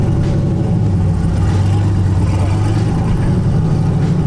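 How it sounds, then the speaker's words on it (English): A Datsun with a turbocharged 6.0 Chevy V8 swapped in drives along, its engine giving a loud, steady low drone that hums throughout without speech. "Alright guys, this is my first drive since the rebuild."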